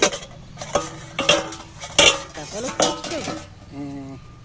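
A metal lid clanks onto a pot of jackfruit curry, giving several sharp, ringing metallic knocks and clinks close by, with a short resonant scrape near the end.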